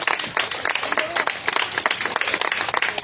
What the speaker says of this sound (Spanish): Fuerte el aplauso, Señor.